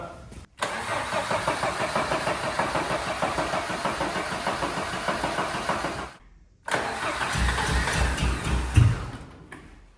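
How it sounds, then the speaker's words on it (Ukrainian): A Ford sports car engine cranks over and over without catching, in two long attempts separated by a brief pause, loud and close, with a heavier low rumble toward the end. "Цей корч не хоче заводитися."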